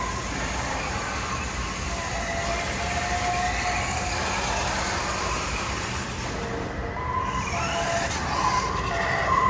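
A Nikko 1/10-scale Nissan 350Z RC car skids while attempting a donut, giving a continuous hissing, scrubbing noise of tires sliding over the surface at moderate loudness, steady throughout with slight swells near the end.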